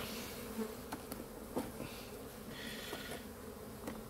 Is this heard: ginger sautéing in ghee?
no